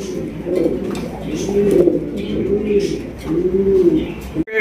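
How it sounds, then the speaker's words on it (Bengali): A pair of red king pigeons coo steadily, with several low rolling coos in a row close to the microphone and a brief rustle at the end. "রয়েছে একজোড়া কিং কবুতর, রেড কালার কিং"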